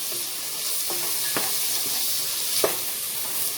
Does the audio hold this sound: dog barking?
no